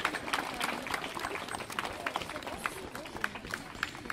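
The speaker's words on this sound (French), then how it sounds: "On peut les applaudir." An outdoor audience claps for schoolchildren at a neighbourhood storytelling walk, a loose, moderately distant patter of hands mixed with crowd murmur and voices.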